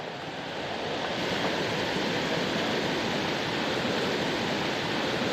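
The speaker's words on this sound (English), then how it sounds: "Literally a waterfall coming up here." Rushing whitewater from a waterfall on a North Carolina trout creek, a steady broadband roar that stays close and constant throughout with no voices over it.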